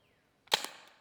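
A single sharp report from a less lethal rifle fired at 10 yards, a sudden loud crack after near silence with a short ringing tail and a faint trailing rattle.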